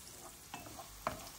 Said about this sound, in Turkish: Soğanları birkaç tur çevirdikten sonra